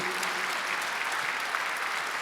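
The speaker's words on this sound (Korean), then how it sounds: "믿는 사람은 박수 쳐보세요." A church congregation claps together during a Sunday worship service, a steady dense wash of applause filling the whole stretch at even loudness.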